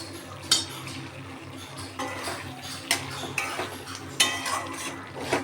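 Spoon repeatedly clinking and scraping against a pan while garam masala is stirred into dahi bhindi, producing several sharp metallic taps at irregular intervals over a steady low kitchen hum.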